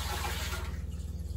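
Water after scrubbing potatoes is poured or running in a kitchen sink, a steady close rush with a low pulsing gurgle throughout the brief moment, no voices.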